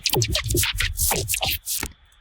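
Choppy, stuttering bursts of processed digital noise, broken into quick irregular fragments before stopping abruptly.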